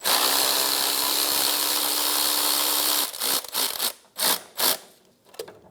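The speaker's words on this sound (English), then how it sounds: "we'll loosen the main stud. Using a 12 millimeter socket," A power tool on a 12 mm socket whirs steadily for about three seconds while loosening the tensioner pulley stud on an Infiniti G35, then gives way to a few short ratcheting bursts and clicks at close range.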